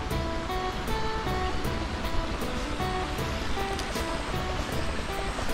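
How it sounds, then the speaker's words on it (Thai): Water flows steadily past the grounds of Chaiwong Resort in Pakxong, Laos, a resort surrounded by nature, making a continuous rushing wash that stays even and close throughout with no voices. "ก็จะมีน้ำไหลผ่านทั้งด้านหน้าและด้านหลัง"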